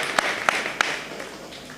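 An audience at a spiritual talk claps in a lively burst of applause, with a few sharp louder claps standing out near the start before the sound eases off gradually.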